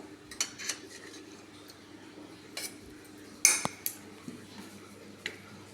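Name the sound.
taking a piece of steamed fish out of Healux cookware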